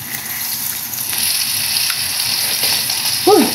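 Chicken feet deep-frying in hot oil, with a steady bubbling sizzle and hiss throughout. A brief voice-like sound breaks in near the end.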